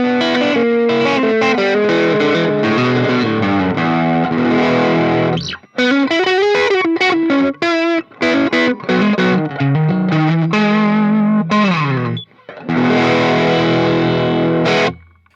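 Electric guitar driven through a Jackson Audio Golden Boy overdrive pedal with gain at maximum, heavily distorted chords and sustained notes played loud, with brief gaps near six and twelve seconds; no voices.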